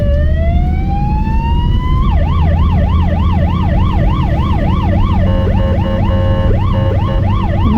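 A Polish ambulance siren blares loud and near, rising into a fast wailing yelp then switching to a steadier two-tone pattern, over rumbling traffic; horn honks are not clearly distinct.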